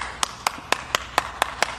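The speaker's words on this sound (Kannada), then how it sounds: "ಚಪ್ಪಾಳೆ." Hands clap in a slow, regular rhythm of seven crisp claps, close by and without talk, during a day out at a Bangalore resort.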